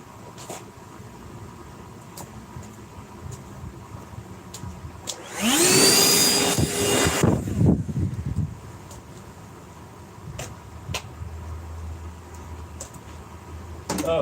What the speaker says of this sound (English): Let me get the blower here to get all this crap out of my way.